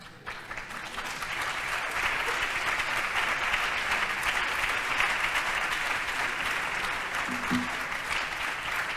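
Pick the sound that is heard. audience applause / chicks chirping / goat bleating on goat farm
audience applause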